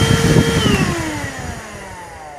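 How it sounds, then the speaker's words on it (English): A vacuum cleaner run from a Bluetti EB3A portable power station winds down, its loud motor whine gliding steadily lower in pitch as it fades over a couple of seconds. "just so you know this vacuum works"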